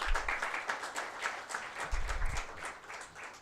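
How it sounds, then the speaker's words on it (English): Seminar audience applauding to welcome Dr. K. Shivaram as he comes up to speak, a dense, steady patter of many hands clapping at moderate distance for a few seconds, with faint low rumbles underneath. "I would request all of you to welcome Dr. Shivram with a loud applause"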